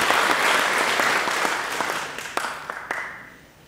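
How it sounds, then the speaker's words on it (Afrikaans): Church congregation applauding during a Sunday service to mark a birthday milestone, a steady round of clapping that thins out into a few scattered final claps. "ons gaan klap"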